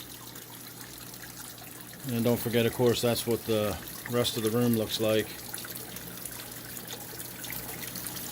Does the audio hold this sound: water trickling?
yes